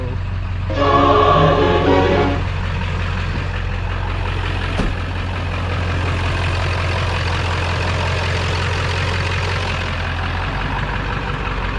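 A 7.3 Powerstroke diesel engine idles steadily after a high-pressure oil pump install, a loud, close, low rumbling drone. A brief clattering burst comes early and a sharp click follows midway.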